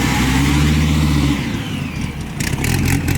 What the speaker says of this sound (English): Listen to this blower on this Viper.